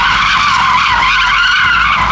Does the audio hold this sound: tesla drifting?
yes